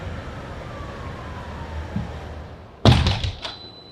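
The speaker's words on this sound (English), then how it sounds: "Ah, there's that city noise." New York City street noise: a low, steady traffic rumble with a faint siren wail gliding down in the distance. A sudden heavy door thud follows near the end, with a brief burst of louder street sound.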